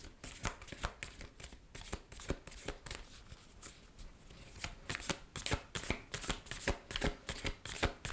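A deck of tarot cards shuffled by hand, with repeated crisp riffling bursts and soft slaps in an irregular rhythm, close and fairly quiet, with no talk.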